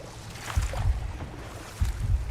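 Rushing water from a waterfall in the God of War Ragnarok video game, a steady broadband wash with low rumbling surges, moderately loud and heard alone without voices.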